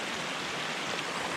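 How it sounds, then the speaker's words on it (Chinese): Water rushes down a hiking trail toward Half Dome in Yosemite, a steady broadband gush like a small waterfall, close and continuous. "哦，你看这里步道变瀑布了。"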